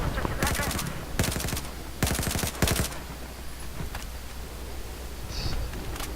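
Bursts of AWS machine gun fire in Battlefield 4, four loud rapid volleys close up, each lasting about half a second, then quieter battle noise with a faint metallic ping near the end.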